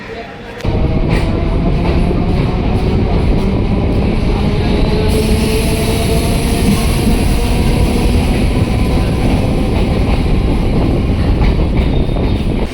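A Kolkata local train runs steadily with a loud, continuous rumble and rattle of rolling wheels and carriage, sustained throughout with a brief quieter moment at the very start.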